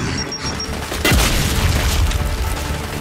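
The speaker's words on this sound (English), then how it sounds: "Throwing frag!" A frag grenade detonates in Gears 5 combat, a single loud, deep boom with a falling rumble that rolls on and fades amid ongoing battle noise.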